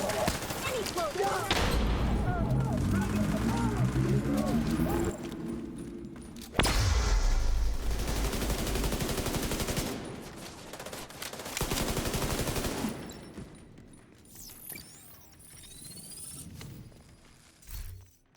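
A light machine gun in a video game fires in long sustained bursts, loud and dense, with a short gap between bursts before trailing off into quieter game sounds toward the end.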